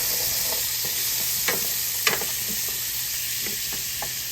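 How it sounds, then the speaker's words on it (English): Onions and garlic frying in oil in a pan on a stove, a continuous close sizzle with a few light scrapes of stirring, no voices. "put you some onions in there with some garlic"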